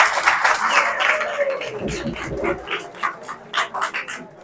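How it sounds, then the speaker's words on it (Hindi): Audience in a school session at Rohru clapping for a sports coach, a dense wash of applause for a few seconds that thins into scattered individual claps toward the end. "तालियां हो जाए भाई"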